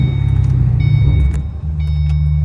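Steady low engine rumble from a 3V Ford Mustang GT V8 while driving, heard from inside the car, droning continuously with a brief dip in the middle of the run.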